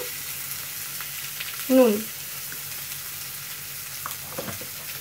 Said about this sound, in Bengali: লো ফ্লেমে আমি পেঁয়াজটা কষতে থাকব